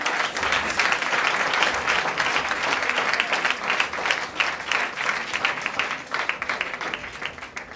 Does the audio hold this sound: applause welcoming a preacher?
yes